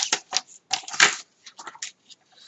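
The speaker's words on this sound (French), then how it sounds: "je vais prendre mon massicot parce que le mien fait plioir en même temps" A paper trimmer that doubles as a scoring tool works on a 12 by 28.4 piece of cardstock, giving a run of short, close, dry scraping and clicking strokes with brief pauses between them.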